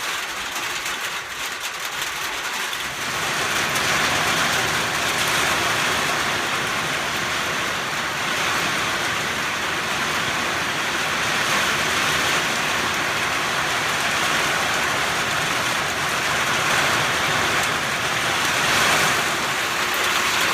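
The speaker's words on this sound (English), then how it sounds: "a little rain passing through." Steady heavy rain pours down outdoors around a shop, a dense broadband wash that swells in after a quieter opening and holds loud and constant throughout with no talking.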